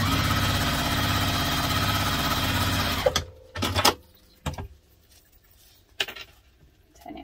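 A sewing machine stitches across the fabric of a sling bag in a fast, continuous whir for about three seconds, then stops, leaving a few sharp handling clicks and thumps in the quiet.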